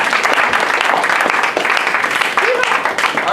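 A lecture audience gives a presenting group another round of applause, with dense, loud, continuous clapping filling the room and a few voices audible beneath it.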